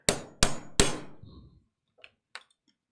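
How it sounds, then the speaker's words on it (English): Three sharp metallic hammer strikes ring out in quick succession as a nail is driven to punch a hole near the edge of a mobile piece, followed by a few faint light clinks. "So I'm just going to hold my nail in place, grab that hammer"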